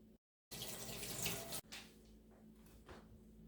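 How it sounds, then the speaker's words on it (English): Tap water runs hard over a kitchen knife in a sink, a bright rushing splash that starts abruptly after a brief silence, then drops to a softer, lighter trickle with small clinks. "I'm going to rinse my knife off"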